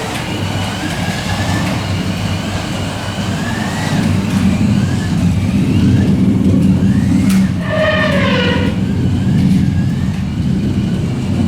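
Carrera 1/32 Chevrolet Corvette Stingray slot cars race around a track, a steady electric motor whine rising and falling as they pass, with a louder, closer rush partway through.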